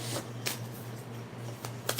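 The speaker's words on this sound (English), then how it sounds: "These cards are very hard to shuffle." A deck of playing cards being shuffled, with several sharp riffling bursts spread over a couple of seconds against a steady low hum in a home setting.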